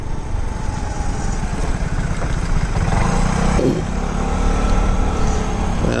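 Motorcycle or scooter engine idling steadily after a start inside a house, a continuous low rumble holding at a constant level with no talk over it.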